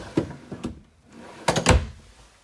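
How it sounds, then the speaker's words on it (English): Full-length drawers in a new 2020 Grand Design Solitude 344GK fifth-wheel RV slide and thump shut, two close pairs of sharp knocks and rolling sounds separated by a brief quiet gap. "Full length drawers."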